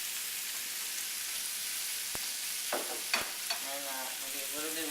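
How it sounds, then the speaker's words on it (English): Mushrooms fry for a frittata in a pan with a steady, loud broadband sizzle, while a few sharp utensil scrapes and clicks from stirring break through near the middle. "We don't want mushrooms or anything else completely burning, but we like stuff a little crispy."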